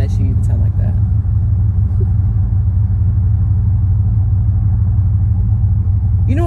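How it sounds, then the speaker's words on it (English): An SUV engine runs with a deep, steady low rumble and droning hum, loud and constant from start to finish, with a faint voice briefly underneath. "You wouldn't think an SUV would sound like that."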